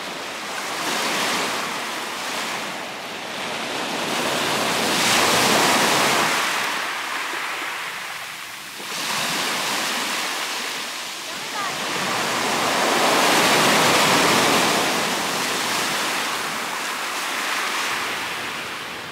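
Ocean waves at Numazu, Shizuoka, rolling in and washing out in slow surges, a broad steady roar that swells and recedes several times, with wind noise over the shore and no talk.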